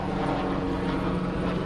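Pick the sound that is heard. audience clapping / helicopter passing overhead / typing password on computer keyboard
helicopter passing overhead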